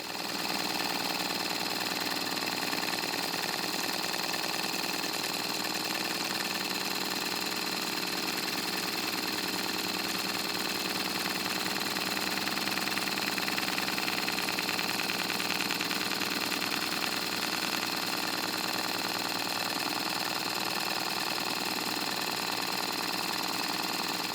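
An embroidery machine stitching a design onto vinyl keeps up a steady, dense mechanical whir with a fast rhythmic needle chatter, loud and close and unbroken throughout.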